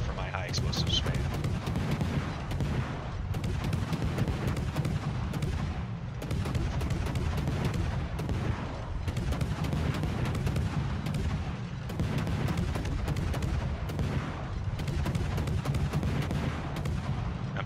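In World of Warships, a Colbert cruiser fires high-explosive shells in rapid, repeated volleys of booming gunfire, loud and close throughout.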